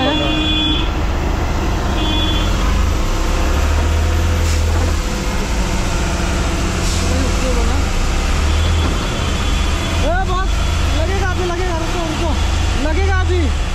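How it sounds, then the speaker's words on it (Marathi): A truck creeps slowly through heavy, rain-soaked traffic near Pune. Its low engine rumble drones steadily, and horn toots and passing vehicles mix in while someone talks over the noise. "हळूहळू जरा चालूच आहे गाडी."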